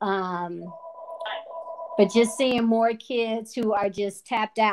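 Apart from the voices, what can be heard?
phone ringing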